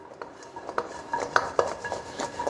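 Pork ribs stir-fried in a wok with off-heat tossing as the sugar coating crystallizes, close metallic scraping and clinking strokes in an uneven rhythm, with no talk.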